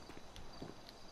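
Brief sequence of soft hoof clops of a horse at a walking pace in GTA Online, close by, over a steady background hum.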